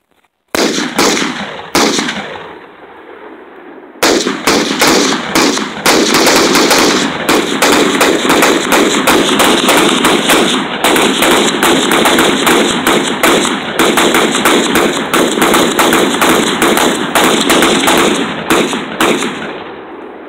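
Rapid, loud semi-automatic gunfire from a Carbon 15 rifle and an AR pistol outdoors: a few shots, a short pause, then a long sustained string of fast, evenly spaced cracks.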